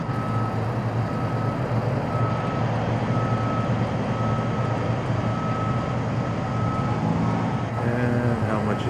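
A city bus on the street below a balcony in the early morning, heard as a steady, loud engine rumble with a faint tonal whine, continuous and fairly close, with no talking.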